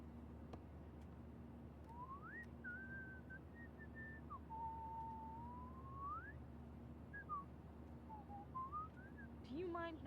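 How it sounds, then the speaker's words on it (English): A character in Life is Strange whistles a slow, wandering tune. Faint sliding notes play alone over a low, constant hum. "Do you mind not whistling?"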